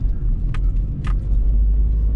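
A car climbs a steep country road in first gear near The Roaches, its engine a deep, steady rumble up close with two brief higher scrapes over it.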